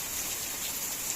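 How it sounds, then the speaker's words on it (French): Steady rain falls outside a house on a rainy afternoon, a soft continuous hiss of drops at moderate distance, even and unbroken throughout with no voices. "Ça fait longtemps qu'il pleut depuis tout à l'heure, depuis cet après-midi."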